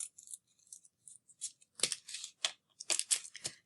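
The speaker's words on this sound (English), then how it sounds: "And I'm going to cut that off right there." Scissors snip through folded paper for a snowflake, a string of short crisp cuts in irregular bursts, some quick and light, others louder and closer together, with no voices.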